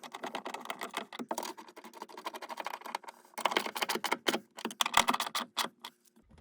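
A 13 mm wrench tightens the battery hold-down bolts on a Chevrolet HHR, making quick, close, irregular metallic ticks and clicks in uneven bursts with short pauses.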